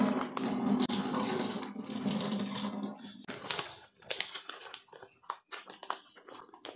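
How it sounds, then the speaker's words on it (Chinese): Water drained out of opened river mussels, a close, loud splashing pour that thins into a trickle and then uneven drips and small wet knocks. "把里面的水把它沥掉。"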